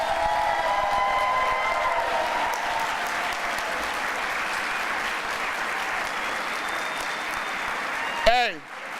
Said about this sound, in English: let's give them a rousing round of applause